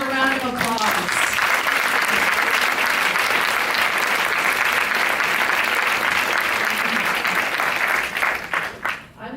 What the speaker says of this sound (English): Great film, eh? Another round of applause.